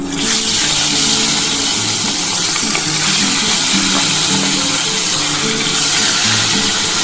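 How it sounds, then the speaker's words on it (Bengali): Small bhola fish frying in hot oil in a home kitchen, a loud, steady sizzle and bubbling that runs continuously without pause. "চারটে চারটে করে মাছ ভেজে নিচ্ছি।"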